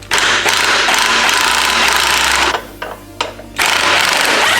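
An air impact gun hammers loose a motorcycle axle nut during a chain slider install, sounding as loud continuous rattling bursts with a short break in the middle before the hammering resumes, close up.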